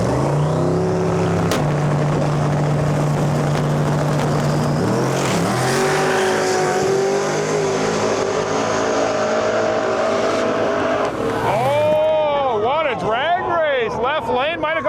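Drag race finals on a sketchy surface, with a 427 twin turbo truck running in the left lane: loud, continuous engine roar throughout, rising revs and a whining pass near the end, with an announcer talking over it.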